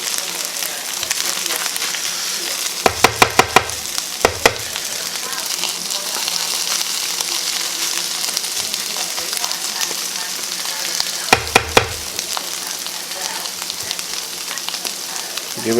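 Hash and egg frying in a pan, a steady broad sizzle throughout with two short bursts of sharp clicks or scrapes from a utensil, fairly close and continuous.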